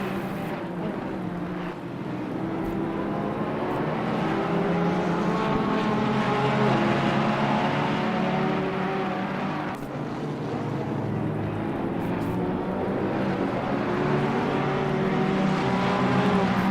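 Sim racing cars, including an Audi, roar continuously around the Hungaroring circuit, engines droning and shifting with a dense, steady wash of motor noise throughout, no voices heard.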